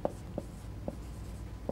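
Marker or chalk writing on a board during a math lecture, a few short, soft taps and strokes spaced irregularly against a faint room hum.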